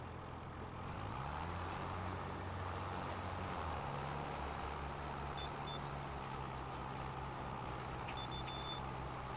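A vehicle in Farming Simulator 25 gives a steady series of faint, evenly spaced high beeps over a loud, continuous engine drone with shifting gears.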